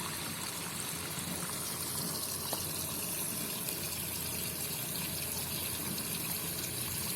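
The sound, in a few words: water filling a container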